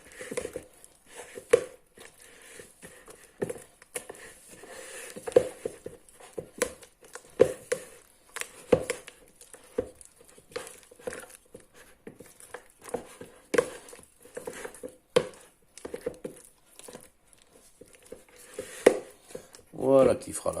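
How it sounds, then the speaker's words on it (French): A spoon premixes rye and T45 pastry flour for bread dough in a bowl. The clinks and scrapes are soft and intermittent, close up, and separated by quiet gaps. "On prémélange à la cuillère."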